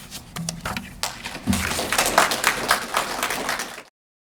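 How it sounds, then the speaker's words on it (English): An audience at a university creative writing capstone reading applauds, scattered claps building into a fuller, steady round of clapping that then cuts off abruptly. "Let's give them another round of applause"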